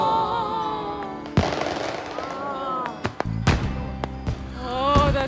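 Fireworks burst in the sky with sharp cracks and pops scattered across the stretch, some louder booms near the middle and end, while people talk and exclaim over them.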